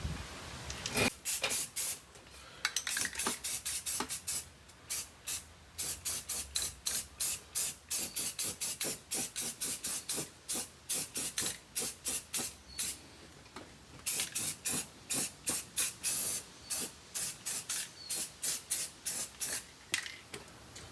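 Aerosol coating hisses onto a truck cab floor in many short bursts, loud and close, in quick irregular rhythm with a few longer sprays and no talking.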